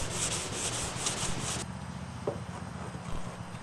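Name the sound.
wet sanding with fine grit sandpaper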